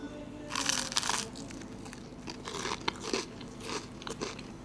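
Crunchy toast topped with tomatoes and olive oil bitten and chewed close up, several sharp crisp crunches followed by softer chewing, quiet otherwise.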